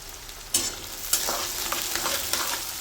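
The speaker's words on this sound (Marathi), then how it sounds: "शेंगदाण्याचा कच्चापणा निघून जातो, तो पण कांद्याबरोबर चांगला परतवला जातो." Chopped onion and peanuts sizzle steadily in a pan while a spoon scrapes and stirs in a few distinct strokes, close and clear with no talking.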